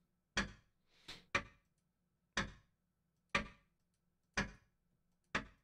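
Sharp, isolated ticks of a clock in the video game Loretta, about one per second with a slight irregular double at the start, crisp and close against a faint low hum, no speech.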